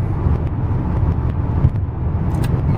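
A car cruising along the I-85 highway toward Atlanta, a steady loud low road and engine drone filling the cabin with faint brief ticks and rattles, no talk.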